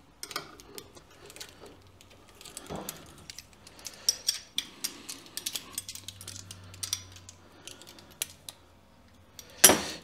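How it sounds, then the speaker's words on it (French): A wrench tightens a nut on a lengthened mainspring assembly, producing close ratcheting clicks and metallic ticks in an irregular series, ending with a louder clunk. "On serre avec la clé de 13."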